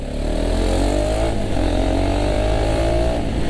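KTM Duke 200 BS6 motorcycle being ridden, its engine droning loudly and steadily throughout with constant wind and road noise, no talk.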